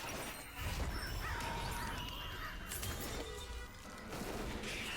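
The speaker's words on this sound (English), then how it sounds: "They got some nice crow sounds, though." Crow caws from the League of Legends Coven Syndra skin ring out over a dense, loud bed of game effects, with crashing and shattering layered underneath.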